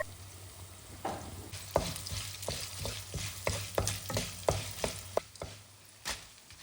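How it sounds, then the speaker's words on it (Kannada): Whole fennel, black pepper, garam masala, cumin and coriander fry in hot oil with a soft steady sizzle, broken by repeated scraping stirs of a spoon against the pan. "ಚೆನ್ನಾಗಿ ಹುರಿದುಕೊಳ್ಬೇಕು ಆ ಎಣ್ಣೆಯಲ್ಲಿ"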